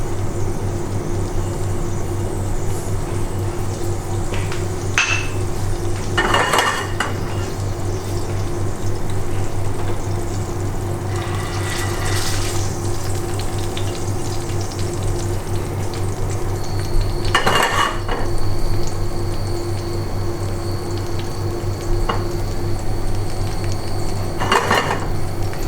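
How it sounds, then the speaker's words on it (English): Beetroots caramelize with sugar in a pan in a Michelin-starred restaurant kitchen, with occasional metallic clinks of pan and utensils over a steady kitchen hum, and no talking. "So the beetroots, we start. As I explained, I wanted to caramelize, so"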